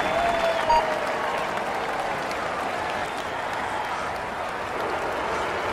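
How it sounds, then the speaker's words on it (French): A video game crowd at a Tour de France 2016 mountain time-trial stage, Sallanches to Megève, applauds a cyclist on the start ramp. The sound is a steady, diffuse roar of clapping and cheering, even in level throughout, with a brief faint tone near the start. "Allez, on l'applaudit bien fort."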